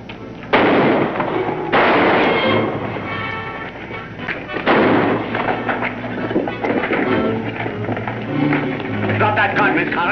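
Rapid bursts of gunfire from a staged film gunfight, loud sharp cracks opening the scene and recurring over a busy, echoing mix with voices and background sound.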